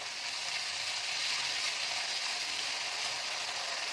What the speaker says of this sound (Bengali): এবার আমি মাছগুলো সব দিয়ে দিলাম, ভালো করে নাড়াচাড়া করে নিলাম